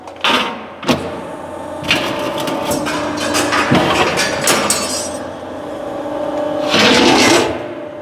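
A Heller HSC1025 heavy-duty hydraulic shear slicing through sheet metal, with a loud mechanical clatter and sharp metallic bangs, a burst near the start and another heavy cutting surge toward the end.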